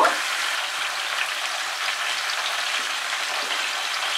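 Vegetables with turmeric and salt being stirred in a frying pan for cucumber shukto, a steady close-up sizzle of hot oil with faint stirring underneath, continuous and even throughout, no voices.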